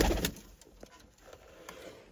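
Kept pigeons in a loft with nesting pairs and chicks coo softly in low, throaty murmurs, a few close calls in quick succession over a faint steady whine and background rustle.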